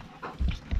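A puppy pants close by in quick, short breaths, two or three soft huffs over a fraction of a second.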